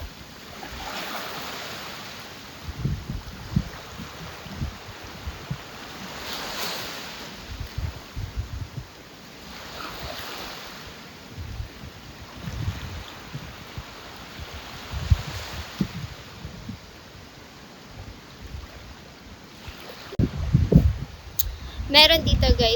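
Strong seaside wind while fishing at Puerto Galera, buffeting the microphone in uneven gusts over a steady wash of surf and water, with louder rumbling bursts toward the end.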